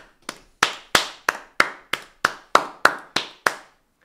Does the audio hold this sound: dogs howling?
no